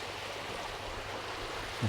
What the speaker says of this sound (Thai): อันนี้คือน้ำตกเลยพี่น้อง